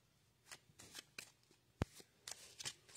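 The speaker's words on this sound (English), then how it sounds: "So we're going to shuffle the deck." A deck of playing cards being shuffled during a card trick, a run of short riffling bursts and soft taps close by, quiet, ending with one sharp snap partway through, with no voice heard.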